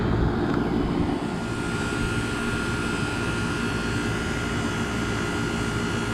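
A 2004 ICP 3-ton straight-cool central air conditioner runs outdoors on a 90°F day, its open reciprocating compressor and GE fan motor making a steady, loud, unbroken droning whir with a low hum, with no voices.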